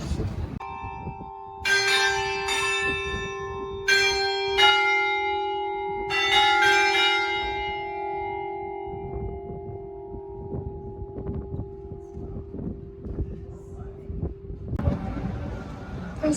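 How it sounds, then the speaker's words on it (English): A church bell in Iceland tolls loudly several times at a slow, even pace, each strike ringing out and fading, with street traffic and distant voices beneath. "Those are the bells that we heard earlier."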